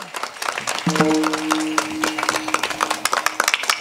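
Loud, dense clapping from a kirtan audience at an Akshaya Tritiya devotional gathering, with a held musical or sung tone rising over the claps for a couple of seconds before the clapping carries on alone.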